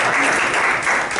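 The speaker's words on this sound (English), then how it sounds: "We can clap for him, guys." Loud, dense applause from attendees at a public meeting, many people clapping together in a continuous, even burst that stays strong throughout.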